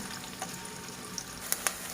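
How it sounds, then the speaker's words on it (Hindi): Onions going into hot oil for a Sindhi veg biryani give off a faint, steady sizzle throughout, with a couple of brief clinks or stirring taps near the end and no talking. "अब ये ऑयल गर्म हो चुका है। उसके बाद हम इसमें पहले प्याज डालेंगे।"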